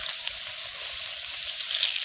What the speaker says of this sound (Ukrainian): В груді шкварчить.